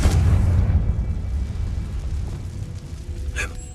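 Confringo blasting spell going off in Hogwarts Legacy, a loud low booming explosion at the start that rumbles and decays over several seconds, with a brief sharper crackle near the end.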